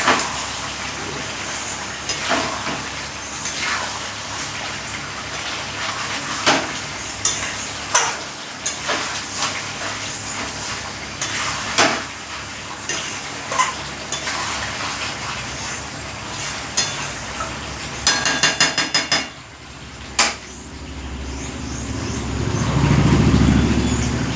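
Chicken meat frying and being stirred in a pan, with a continuous sizzle broken by repeated scraping and clinking strokes, then a low rumbling surge near the end.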